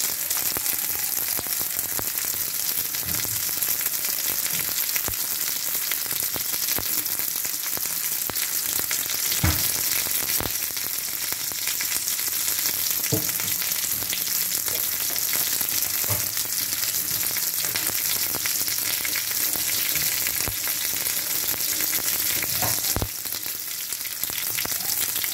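Onions and a large green chilli frying in a pan for a simple breakfast dish, a steady, full sizzle running throughout with occasional utensil clicks and scrapes, no voices.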